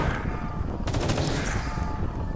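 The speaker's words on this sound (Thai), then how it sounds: "ตามมงยิงต่อให้กูหน่อยเดี๋ยวกูใส่ลูกแป๊บนึง" Loud bursts of automatic gunfire from a zombies video game, a rapid rattling volley breaking in partway through over a busy game soundscape.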